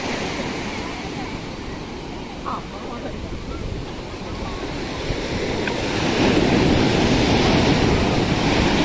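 Sea waves at a Kerala beach on a sunny day, a loud continuous surf roar with wind buffeting the microphone, swelling stronger toward the end; people talk faintly in the background.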